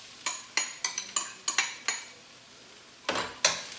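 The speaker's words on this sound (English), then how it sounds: "Then I'm going to go ahead and add up my thinly sliced mushrooms." Thinly sliced mushrooms tumble into a hot pan with garlic, a run of sharp clattering knocks and scrapes at an uneven pace, close and fairly loud, then a short pause before two more bursts.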